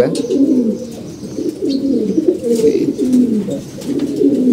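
Domestic pigeons kept in a loft, including breeding pairs, coo continuously and close by in low, rolling, overlapping calls that swell and fade in steady waves.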